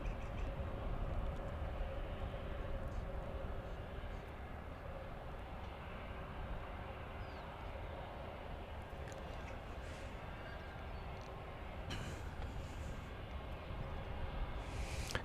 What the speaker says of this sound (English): American 2178 is going to Salt Lake City, an Airbus A321.